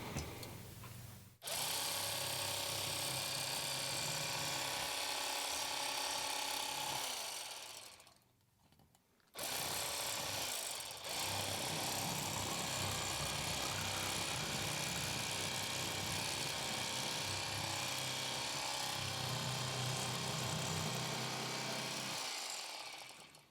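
A Bubba lithium-ion cordless electric fillet knife whirs steadily as it fillets a crappie, a loud continuous motor buzz that cuts out briefly partway through, then resumes and runs on to the end.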